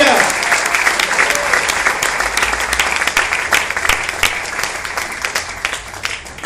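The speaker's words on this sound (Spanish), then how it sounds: "Denle un aplauso fuerte, Rey de Reyes y Señor de Señores." Loud, dense applause from a church congregation during a sermon on prophetic events, sustained throughout with scattered louder claps and a faint murmur of voices beneath.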